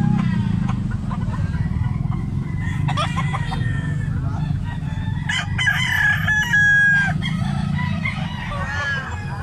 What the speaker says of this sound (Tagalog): Wapo si tatay ang manok oh.